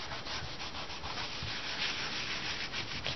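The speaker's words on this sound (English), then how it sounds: "I'll give that a quick wipe down" An old rag rubs over the edges of a raised heart card in quick, repeated strokes, making a soft, close scratchy swishing that pulses evenly with no talking.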